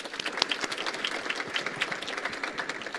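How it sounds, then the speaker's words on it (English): An audience gives a round of applause for a panel at a young farmers' event: dense, lively clapping from a crowd, fairly close and steady throughout. "Let's give them a round of applause."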